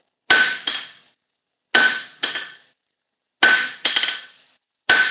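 Hammer blows on a steel anvil while forging leaf wall hooks, ringing metallic strikes arriving in quick pairs, four groups spaced about a second and a half apart, loud and close.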